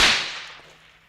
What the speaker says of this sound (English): it was a whip